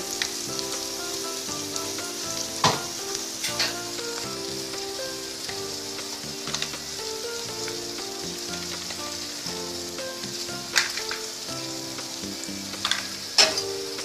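Tadka spices fry in hot oil in a pan and get stirred, giving a steady soft sizzle with scattered scraping clicks and a few sharper spoon knocks, close and without talk.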